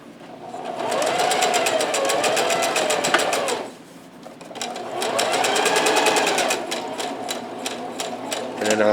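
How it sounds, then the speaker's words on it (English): A sewing machine on zigzag setting stitches wire onto a face mask's seam allowance in two loud, close bursts of rapid needle chatter separated by a short pause, with a brief softer run after. "I'm going to zigzag the wire right on the seam allowance."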